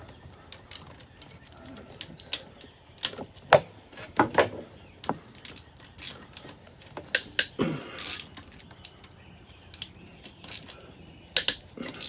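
Sharp metallic clicks, clinks and ratcheting taps of tools come in scattered bursts, close by, while bolts are removed from the intake manifold of a 1991 Lotus Esprit during an engine teardown.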